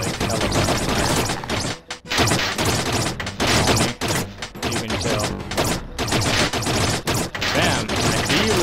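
Dense, loud gunfire and bullet impacts in the video game Another World, rapid bursts with brief gaps, harsh and close, filling the whole stretch.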